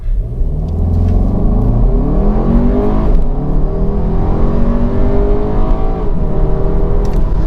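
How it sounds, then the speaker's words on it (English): A 2019 Audi Q3 SUV accelerates at full throttle with a loud, close engine roar that climbs steadily in pitch through the gears, dipping briefly at each shift, with no voices. "let's just floor it and go"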